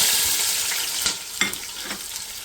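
Onions sizzling in hot oil with whole garam masala for a beef yakhni biryani, a steady bright frying hiss broken by a few soft stirring clicks, close and with no voices.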